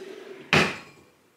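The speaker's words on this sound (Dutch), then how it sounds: "ik ga eens even lekker de deur open doen" A single sharp clunk of a door latch or handle cuts in at mid-clip, loud and close, then rings down into quiet after a faint hum before it.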